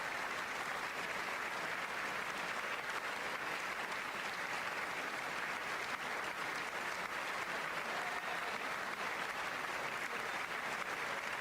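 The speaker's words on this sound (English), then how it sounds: "It's like a 2-minute applause for xenophobia." Steady, sustained applause from a large crowd at a State of the Union address, dense and unbroken throughout, with no talking over it.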